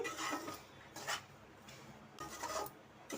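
Sugar is stirred into a sooji rava laddu mixture in a pan, heard as repeated close, gritty scraping and rubbing strokes of a spoon across the pan in short bursts with brief pauses between, and no voices.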